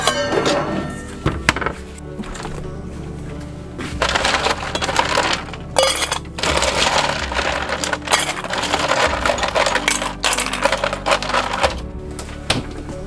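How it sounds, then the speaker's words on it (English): Ice cubes tipped into cold water in a big stainless steel bowl, giving repeated clattering knocks and clinks of ice against metal, close and fairly loud, in bursts over several seconds. "And I even add ice to it as well."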